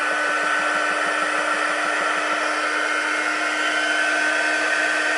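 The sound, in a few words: heat embossing tool blowing hot air on cardstock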